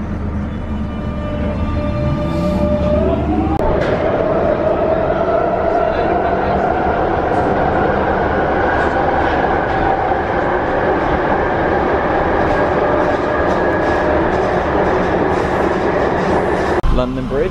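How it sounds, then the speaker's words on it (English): A London Underground train at London Bridge rumbles and rattles continuously, close and loud, its motor whine rising as it pulls away, with a brief squeal of braking or starting at the beginning. "This is the train."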